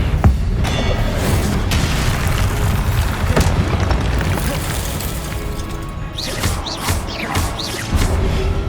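Confringo blasting-spell explosions in Hogwarts Legacy gameplay boom and crash almost without pause, a dense, loud barrage of blasts with debris and clatter layered over one another.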